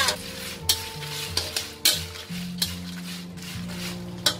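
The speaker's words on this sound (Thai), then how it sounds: "เดี๋ยวเรามาคั่วพริกขี้หนูแห้งกันเลยค่ะ" Dried bird's eye chilies being dry-roasted with salt in a pan, with repeated scraping stirs and clinks of a utensil against the metal over a light sizzle, close and fairly loud.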